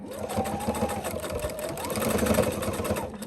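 A sewing machine runs steadily at a 2.5 stitch length, stitching fabric for a Christmas pillow, a close, continuous whirring hum with a fast mechanical pulse that swells slightly toward the end.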